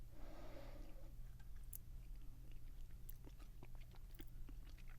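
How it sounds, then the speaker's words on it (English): A Haribo-type gummy candy is chewed close to the microphone in a quiet room, with soft, sticky, irregular mouth clicks and squelches, faint overall. "It puts up significant resistance when you're chewing it."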